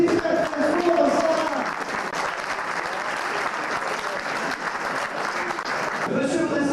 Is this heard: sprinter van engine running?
no